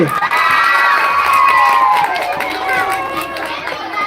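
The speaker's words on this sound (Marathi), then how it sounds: "यांच्यासाठी जोरात टाळ्या वाजवा रे" Schoolchildren at a village zilla parishad school quiz cheer and shout loudly for the winning team, a continuous excited crowd roar with voices overlapping throughout.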